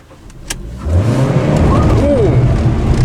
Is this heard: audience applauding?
no